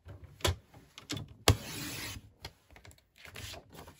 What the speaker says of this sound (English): I am going to cut this at 4 inches.